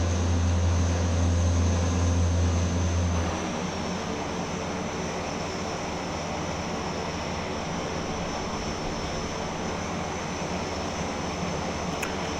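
Heavy airliner engines from Microsoft Flight Simulator X drone steadily and loudly throughout, with a deeper low rumble over the first three seconds that then drops away to a constant, even roar, no voices present.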